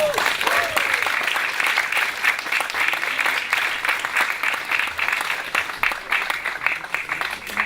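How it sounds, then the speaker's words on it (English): Audience applause at a JFK birthplace memorial celebration marking a National Park Service anniversary, a sustained, even clapping from a crowd with faint cheers and voices mixed in. "I think that deserves a cheer."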